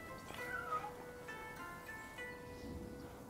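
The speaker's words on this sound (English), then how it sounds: "I probably just heard another cat," A cat in the video game Rise of the Ronin gives a couple of clear, drawn-out meows in quick succession over soft ambient game background noise, close and moderately loud.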